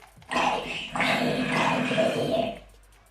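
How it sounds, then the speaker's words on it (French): A dog in the video game Minecraft gives two drawn-out, whining bark-like calls in quick succession, close and loud, with no talking over them. "il y a un chien pas loin"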